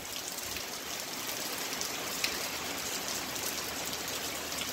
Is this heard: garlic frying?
no